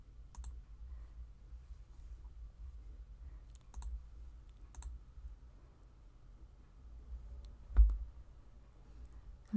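A few sparse, quiet computer mouse clicks while opening a file in Photoshop, spaced several seconds apart over a low steady room hum, with no talking.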